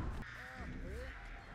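A pair of drawn-out crow caws in a video game, two rising-and-falling calls close together over a dense background of game ambience.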